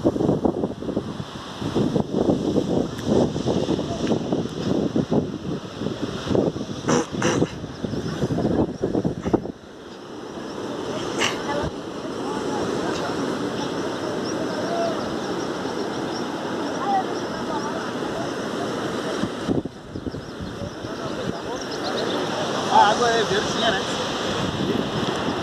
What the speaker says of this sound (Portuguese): O mar é muito gigante aqui